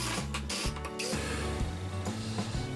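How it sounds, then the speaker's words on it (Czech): A blender whirs through mint leaves, white yogurt, garlic and salt for a dip, its motor droning loudly and changing pitch in uneven bursts as the load shifts, close up with no talking. "Toto si rozmixuju."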